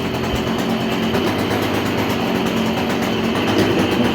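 A Stihl pole saw's small petrol engine idles close by, giving a steady, rough, continuous drone with a slight flutter and no revving throughout.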